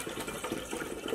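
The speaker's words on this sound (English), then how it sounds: "Cold water in there." Cold water poured into a pan while cooking nachos, a steady close splashing gush that runs continuously without pause.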